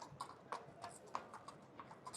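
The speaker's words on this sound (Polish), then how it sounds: "Tutaj policja na koniach, zobaczcie." Police horses walking around a football stadium on a match day, their hooves giving a faint, irregular clip-clop on hard ground with quiet crowd murmur behind.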